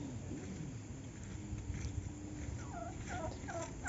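A turkey gobbles outdoors several times in quick rattling bursts, moderately near, over steady wind noise.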